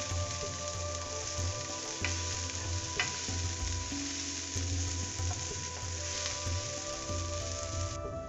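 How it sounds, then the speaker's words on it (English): Onion fries in a pan over medium heat with a soft, continuous sizzle, and a utensil stirs it in occasional light scrapes. Steady background music plays underneath. "Now add your onion, stir it and keep it on medium heat and let it cook till it is slightly brown in color."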